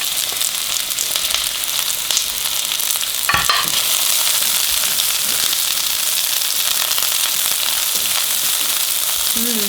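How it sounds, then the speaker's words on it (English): Onion sautéing in a pan for chicken fajitas makes a loud, constant sizzling hiss, with a brief clatter of a utensil near the middle and light crackles throughout. "I'm gonna add the onion. To saute the onion a little."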